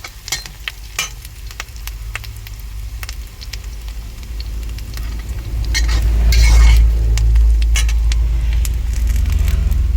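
Ingredients for a Tamil egg gravy sautéing in a pan, with a steady sizzle under scattered sharp stirring scrapes and clinks, and a low rumble swelling partway through; no talk.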